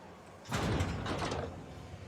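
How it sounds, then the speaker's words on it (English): A sliding door in The Outer Worlds video game opens with a short mechanical whoosh and grinding slide lasting about a second, fairly close and moderately loud against quiet background. "Weird door."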